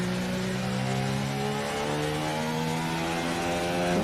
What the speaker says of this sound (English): As we gently get back on the throttle.